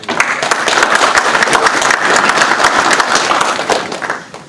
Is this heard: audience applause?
yes